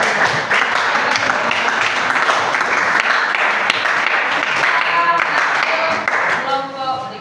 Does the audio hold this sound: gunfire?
no